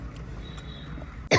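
A single sharp cough at the end of a short stretch of quiet room noise, close and loud.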